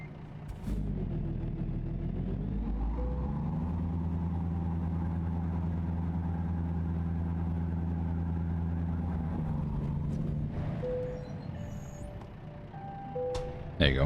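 A truck engine in American Truck Simulator revs up inside a garage, then holds a steady, droning rumble for several seconds before dropping away, with a few faint clicks and tones near the end.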